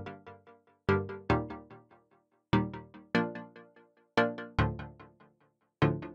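Plucky synth chords in a track produced in FL Studio 20 play as short, bright stabs that decay quickly, arriving in an irregular rhythmic pattern with brief gaps between phrases, with no voice over them.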